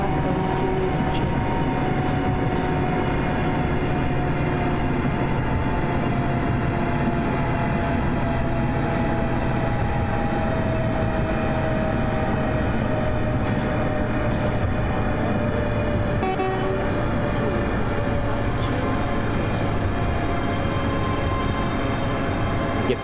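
A fast train runs through a Scottish railway station near Dunblane without stopping, a loud, steady rumble and roar that fills the whole span, with faint tonal hums and occasional squeaks.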